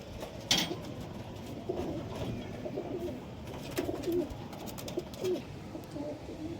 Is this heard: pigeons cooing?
yes